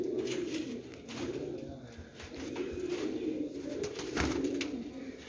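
Several China teddy pigeons coo in a steady low murmur close by, the soft rolling calls overlapping throughout with brief louder swells and occasional faint chirps.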